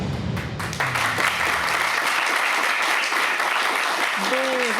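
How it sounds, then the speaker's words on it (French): Audience applause at a business awards ceremony for a family outdoor-furniture company winner, steady dense clapping filling the room, with a voice briefly speaking near the end. "Applaudissements pour vous, Baptiste Rébier"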